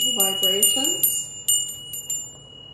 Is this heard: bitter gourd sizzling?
no